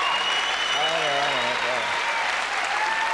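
Studio audience applause at the 2008 X Factor television show, a dense, steady wash of clapping lasting throughout, loud and close, with a voice briefly talking over it.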